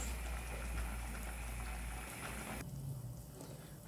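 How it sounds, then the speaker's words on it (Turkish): Steady low bubbling of water boiling in a pot with jar lids in it, a continuous simmering rumble with no talking. "Kavanoz kapaklarım da kaynıyor."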